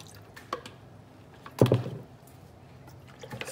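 Humic acid poured from a container into a jar of water during a sprayer mixing test, a short gurgling liquid splash in the middle of an otherwise quiet stretch with faint drips before and after.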